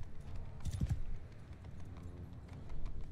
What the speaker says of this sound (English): I can hear them, that's the horses.